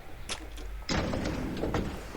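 A double door swings open in the detective game L.A. Noire, set in 1940s Hollywood: a soft early click, then a broad rushing sweep as the doors part, fairly close and steady, with no talk over it.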